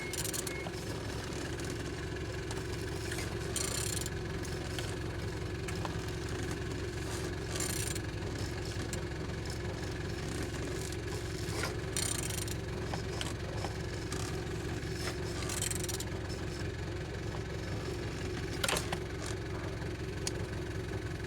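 A BMW M57D30 3.0-litre diesel engine (306D1) runs steadily at idle, a continuous close rumble with a faint rhythmic knock and occasional light clatter, heard alone for about twenty seconds.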